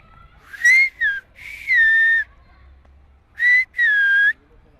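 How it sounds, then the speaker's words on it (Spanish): Silbo, the whistled language, rings out as a series of loud, clear whistles with rising and falling pitch glides, grouped in two bursts separated by a short pause, with no other sound around them. "Utilizo el silbo para llamar a un compañero de mi casa"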